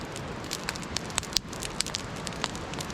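A riverside campfire crackles steadily on a cold early-spring night, with sharp pops and snaps scattered over a soft, continuous hiss.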